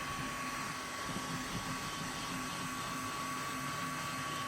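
A hot air welder runs steadily while welding roof membrane flashing, a constant airy blower hiss with a faint motor hum that stays unchanged throughout.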